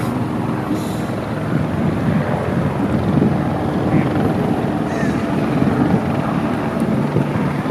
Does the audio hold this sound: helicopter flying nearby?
yes